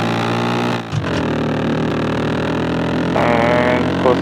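Car engine in Roblox, a loud, steady, harmonic drone that dips for a brief gear change, climbs in pitch, then swells again with another revving rise.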